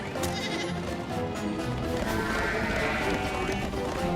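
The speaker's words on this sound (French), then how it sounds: "tous les moutons sont là" Cartoon sheep bleat repeatedly over a busy background of other animal and hoof-like noises, fairly loud and close.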